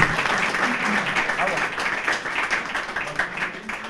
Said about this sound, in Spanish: Un fuerte aplauso para el profesor